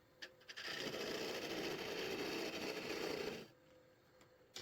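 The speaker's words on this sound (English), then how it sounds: "Finally, use the Sorby tool to cut the slot" A Sorby tool cutting a slot into a wooden salt or pepper mill base on a lathe gives a close, continuous buzzing rasp for about three seconds, with faint taps before and a quiet hum after.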